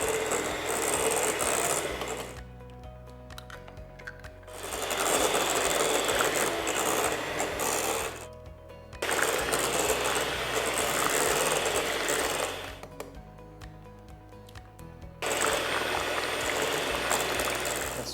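An electric mixer beats passion fruit cheesecake batter after eggs are added one at a time, a loud continuous whirring drone that cuts out and restarts in several bursts, with quieter gaps between and no speech.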